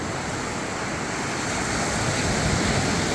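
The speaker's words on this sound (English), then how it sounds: "the waves are crashing in" Ocean waves crash onto the shore in a loud, unbroken roar of surf, mixed with gusting wind buffeting the microphone.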